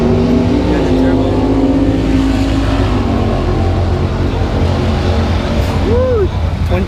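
A twin-turbocharged car with a 350 engine at a test-and-tune track day rumbles loudly and steadily at close range, with a brief rising whine near the end and people talking in the background.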